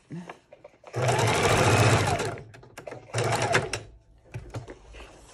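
A sewing machine stitches through scrapbook-paper junk journal pages with top and bottom threads, running in two loud close bursts separated by pauses and a few short starts.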